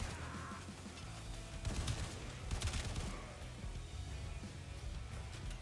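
Gunfire from a run-and-shoot stretch of the video game Warframe, a steady barrage of shots that swells into a denser burst midway, with a constant game-sound bed underneath and no talk.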